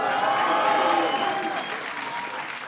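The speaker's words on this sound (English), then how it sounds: "Give Beast Mode a round of applause." An audience applauds a football player at a press event, dense steady clapping from a crowd that holds strong throughout and eases slightly toward the end, with no speech over it.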